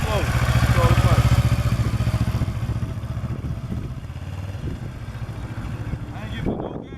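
A motorcycle engine idles with no throttle, a loud, close, steady low rumble and clatter that dips slightly toward the end, with voices talking over it.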